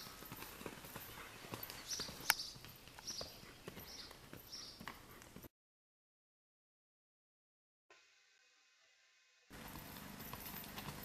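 Hooves of the horse Echo at a canter, a steady rapid clip-clop rhythm, close and clear, which breaks off into silence midway and resumes near the end.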